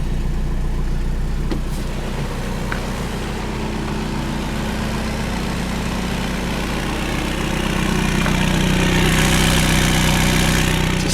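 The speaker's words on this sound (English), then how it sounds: "Old cars put too much gas when they cold start it" An old 1988 car idles steadily after a hard cold start, its engine a loud, continuous low rumble that grows slightly louder near the end, with no voices.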